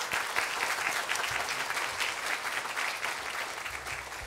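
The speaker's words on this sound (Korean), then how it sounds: "박수 주시기 바랍니다." Congregation applause at a Korean Baptist church Sunday service, a full, even burst of many hands clapping together that fills the room and continues steadily without speech.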